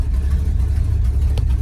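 A 1971 Ford F250 Camper Special engine idles steadily after a cold start, a loud, continuous low rumble heard close up with no other sounds over it.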